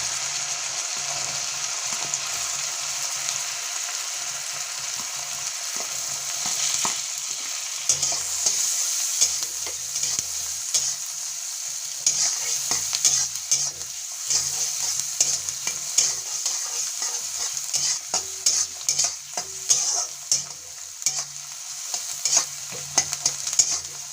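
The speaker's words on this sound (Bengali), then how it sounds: "মনে হয় দেখেন পেঁয়াজটা ভাজা হয়ে গেছে" Onions sizzle steadily in hot oil in a pan, with repeated scraping and clinking as a spoon stirs them, the frying hiss continuous and close throughout.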